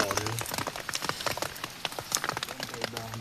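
Rain falls in a forest, scattered drops pattering on leaves and wood close by in an uneven, irregular rhythm, fairly quiet, with faint speech-like sounds in the background.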